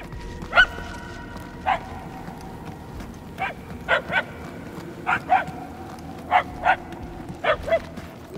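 Dogs bark in Guardians of the Galaxy, sending out about a dozen sharp, separate barks in uneven pairs and singles, moderately distant, over a low ambient hum.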